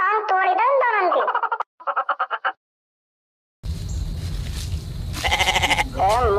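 Goats bleating in a short run of wavering cries, then a quick stutter of repeated bleats, a silent gap, and more bleating over farmyard background noise, set in a cartoon comedy scene.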